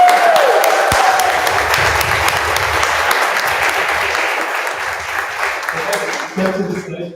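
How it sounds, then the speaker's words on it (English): A crowd at a web development bootcamp demo day in Lisbon claps in sustained, lively applause that fades gradually, with a voice speaking over the clapping near the end. "We need to give a round of applause to our"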